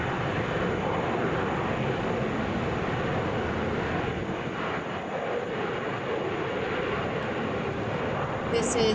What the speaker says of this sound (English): This is Delta Flight 840. This is our flight to Denver. Headed out on an Airbus A321.